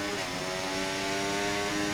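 A Formula 1 car engine in the F1 24 racing game lifts off the throttle, a high, buzzing whine that holds steady and loud for a couple of seconds without braking.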